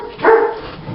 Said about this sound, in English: Oh, the dogs are barking.